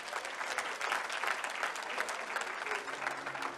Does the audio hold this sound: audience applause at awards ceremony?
yes